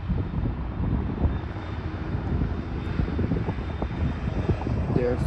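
A Boeing 737 at Schiphol airport produces a steady, broad jet-engine roar that holds at a constant level throughout, with a bit of speech over the noise.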